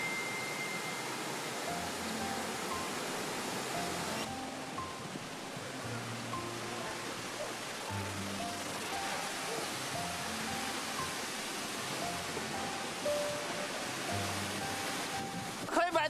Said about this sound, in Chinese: 之后我们看到了这里的大瀑布，水流量大的时候真的是超震撼。